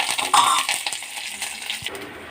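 Mustard seeds and other tempering spices crackle and sizzle in hot oil in a pan, followed by curry leaves, with close, bright spattering and a few light metallic clinks of a spoon; no one speaks.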